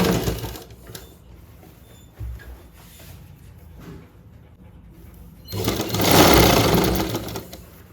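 A sewing machine stitches a deep neck suit, its motor whirring in short runs with pauses between, ending in a longer, louder continuous stretch of stitching.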